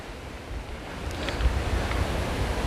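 Wind blows across a mountain trail on the Appalachian Trail, a steady low rumbling gust buffeting the microphone, rising slightly over a few seconds with no voices.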